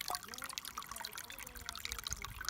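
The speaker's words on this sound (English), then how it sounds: "you take some of those rhododendron leaves right here and you prop them over where the water is, and you make like a little water spout there." Spring water trickles steadily from a spout of propped rhododendron leaves into a cup on the Appalachian Trail in the Smokies, a close, continuous light splashing with soft background noise.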